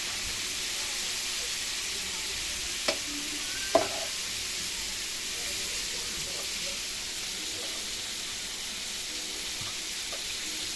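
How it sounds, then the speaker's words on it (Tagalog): Chicken fries in a pan on a burner, giving a steady, soft sizzle throughout, with a couple of sharp clicks from handling. "Ating kimbot na lang ito, maluluto na ang ating fried chicken."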